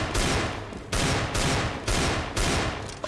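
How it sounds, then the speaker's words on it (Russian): Desert Eagle pistol fire in the 2013 version of CS:GO: four loud, sharp shots at an even pace, each with a short decaying tail, and no talk between them. "стрельба с дигла"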